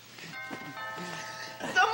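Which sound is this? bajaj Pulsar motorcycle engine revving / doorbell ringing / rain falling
doorbell ringing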